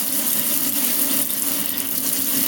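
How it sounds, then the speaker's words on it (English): Hot water runs steadily from a tap into a sink, a continuous close hissing gush with no speech. "So I got the water running here so we get some hot water coming in soon."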